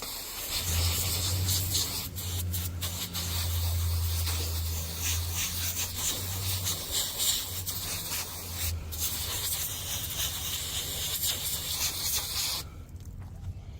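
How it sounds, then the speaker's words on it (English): A garden hose sprays water to rinse debris off pool vacuum parts outdoors, a continuous broad hiss of spray that runs for several seconds before cutting off near the end. "So I'm just gonna get my hose and we'll rinse these off."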